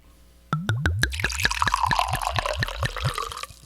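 Wine glugs from a bottle into a glass in quick rising gurgles, a close, fairly loud pour whose pitch climbs as the glass fills. The pour then settles into a softer trickle.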